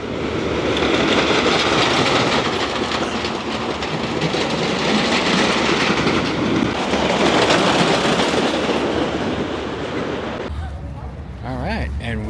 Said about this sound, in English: they are testing trains. Let's see, it should be coming around here any second now